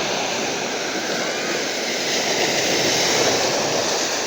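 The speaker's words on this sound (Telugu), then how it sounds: "రాళ్ళ రాళ్ళలోకి వచ్చి కొట్టుతుంది చూడండి రాళ్ళని తాకుతుంది సముద్రం" Sea waves surge in and crash against rocks along the Andhra coast, a loud, continuous roar of rushing water and spray that swells slightly near the end, with no voices.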